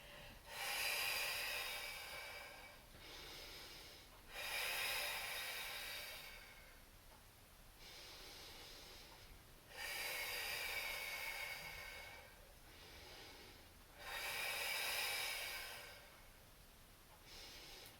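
Slow, steady breathing during a Pilates abdominal workout, with several long airy exhales repeating at a regular pace and quieter inhales between them, close and fairly soft, with no talking.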